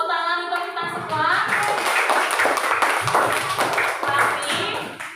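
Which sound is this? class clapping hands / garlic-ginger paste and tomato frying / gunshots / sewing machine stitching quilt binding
class clapping hands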